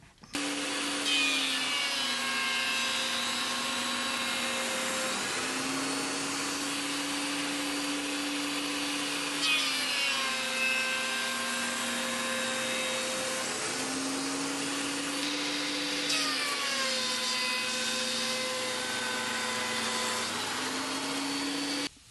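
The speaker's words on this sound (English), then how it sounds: "I'm going to send this bit of oak through the thicknesser" A thicknesser planes an oak board while dust collector motors run, giving a loud, steady machine drone with shifting whining tones that rise and fall several times over a long stretch.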